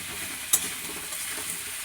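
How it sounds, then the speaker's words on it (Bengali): Onion, potato, papaya and tomato frying together in a pan, a soft continuous sizzle with one sharp clink near the start, close and alone. "দিয়ে একসাথে পেঁয়াজ, আলু, পেঁপে, টমেটো একসাথেই ভাজবো।"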